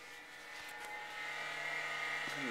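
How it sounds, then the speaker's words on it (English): An IBM PS/2 computer's hard drive spins up, a faint, steady whirring hum with a thin high whine that gradually swells in level, accompanied by a few soft mechanical ticks. "That massive hard drive spin up."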